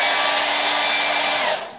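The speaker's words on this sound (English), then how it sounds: "So let's get blow-drying." A handheld household hair dryer runs steadily at close range, blowing a loud, even rush of air with a faint motor whine, then the sound drops slightly near the end; no one speaks.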